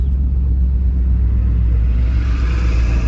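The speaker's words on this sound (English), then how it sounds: "You hear more induction noise if you do that" A 1982 Jeep Wagoneer Limited's engine runs with a steady, loud low rumble and induction roar, holding an even drone throughout with no voices.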